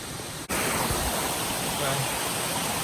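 A waterfall in a Hawaii national park roars as a steady, dense wash of rushing water. It is loud and close, with a brief dip near the start.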